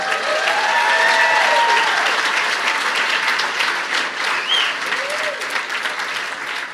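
Comedy club audience at a stand-up show bursts into sustained applause for educators, dense clapping that starts loud and slowly tapers, with a few whoops and voices mixed in.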